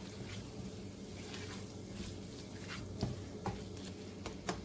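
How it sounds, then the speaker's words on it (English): Sloppy joe mixture with ketchup and tomato paste being stirred in a pan, with a soft, steady sizzle and a few faint scraping strokes near the end. "I'm going to stir it around and get it all mixed and combined."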